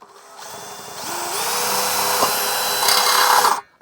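A Dewalt DCD805N cordless brushless 20V impact drill, set to speed 2, spins up into steel. The loud, close motor whine rises in pitch, holds steady for a couple of seconds, then cuts off abruptly.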